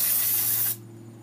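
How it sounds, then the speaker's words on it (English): A single close, loud burst of aerosol carb cleaner hissing onto a Briggs and Stratton engine carburetor, holding steady for most of a second before stopping sharply, leaving a faint low hum behind. "Just get a good spray in there."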